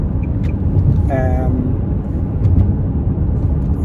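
A 2-litre non-turbo petrol Nissan Qashqai being driven, heard from inside as a steady low road-and-engine rumble with a brief faint tonal whine partway through.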